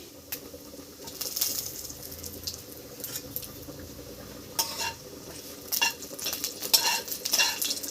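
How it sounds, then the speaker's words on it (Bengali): Cumin seeds and a dried red chili sizzling in hot mustard oil for a Bengali chicken stew, a soft steady crackle with bursts of sharper spitting pops and occasional clinks of a spoon against the pan. "একটু জিরে দিয়ে দিচ্ছি জিরে ফোড়ন শুকনো লঙ্কা একটা দিচ্ছি"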